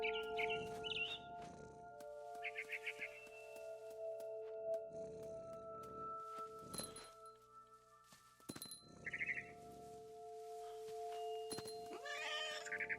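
A cat in What Remains of Edith Finch gives several short meows and mews over a steady tonal game ambience, with bursts of higher calls scattered through and no talking.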